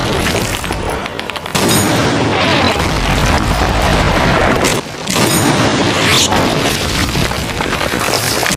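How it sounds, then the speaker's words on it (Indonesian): Anti-materiel sniper rifle fire in an action film rings out as heavy, booming shots over a dense, loud soundtrack, with brief drops in level between bursts. "Ia terus memberondot tempat persembunyian OJ dengan tembakan."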